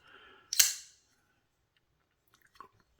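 The blade of a Twosun TS328 folding knife with an M390 steel blade flips open in one sharp, close snap. A couple of faint small clicks follow in otherwise quiet surroundings.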